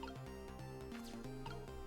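Water drips from a nozzle in the Ghost Trick: Phantom Detective video game, a soft, steady liquid dripping and squishing over a low, sustained musical tone, with no voices.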